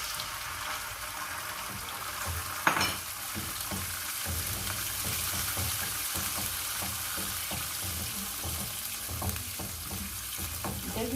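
Yogurt poured into browned ginger and garlic frying in a pan, giving a steady broadband sizzle with a brief sharp splutter as it goes in, continuous and close with no talking.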